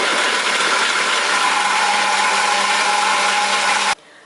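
A food processor or chopper coarsely chopping sliced carrot rounds, a loud continuous whirring motor drone that runs steadily for about four seconds, then stops abruptly.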